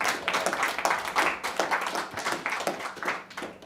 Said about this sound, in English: I think we should give both our speakers a round of applause.